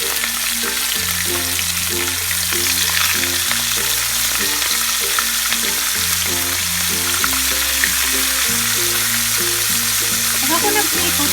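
Steady crackling sizzle of tamban herring fish frying in hot oil, loud and continuous throughout, with low background hum and no talking.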